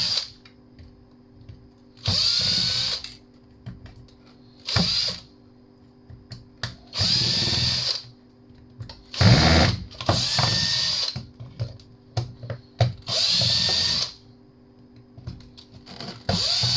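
Cordless drill backing screws out of a piece of scrap, several short whirring bursts of the motor separated by pauses, close and fairly loud, with no talking.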